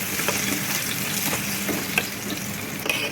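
Polao rice frying in oil with cooked-down spices, stirred continuously: a dense close sizzle with intermittent scraping and tapping of the spoon against the pot, no speech.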